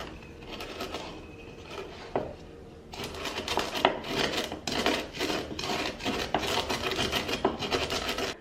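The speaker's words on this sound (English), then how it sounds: "we will pound the masalas" Whole masala spices pounded by hand for a Naga radish pickle, a steady run of gritty grinding and rasping strokes, quieter at first, then louder and continuous with repeated scraping impacts.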